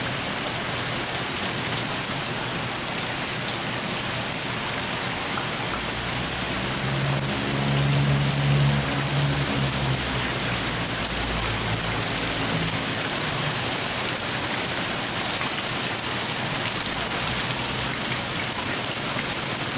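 Hail and rain pour down steadily during a hailstorm, a dense, continuous hiss of drops drumming on surfaces with a faint low rumble swelling briefly in the middle.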